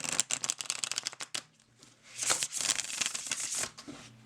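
A stiff deck of playing cards is shuffled in rapid, crisp riffles: a flurry of close snapping cards, a short lull, then a longer buzzing riffle.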